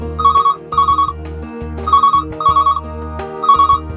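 A phone ringtone chimes in short repeated bursts on a call-in show, three pairs of electronic trills over a steady musical background, loud and close.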